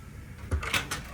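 A cabinet door in a cruise ship cabin aboard the Nieuw Statendam opens with a couple of quick, close wooden clunks and knocks over quiet room tone.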